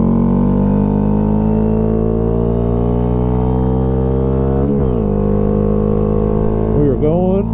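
A 2025 Honda Grom motorcycle engine pulls hard uphill at about 7,800 RPM, a loud, continuous buzzing drone whose pitch holds and creeps upward. A short dip comes near the end, with wind rush over it.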